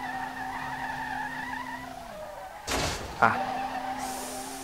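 A tire squeal from a car drifting in the SLRR street-racing game is heard as a short burst over a steady engine drone, followed by a sharp knock. A single voice exclaims briefly just after.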